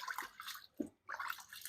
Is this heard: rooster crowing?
no